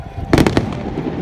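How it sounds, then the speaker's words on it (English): At Poole Quay, fireworks go off in a quick cluster of three or four loud, crackling bangs within half a second, then fade into a lingering rumble. "they're really loud. Multiplier. Hey, firework."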